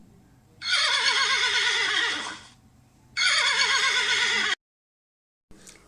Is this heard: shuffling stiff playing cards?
no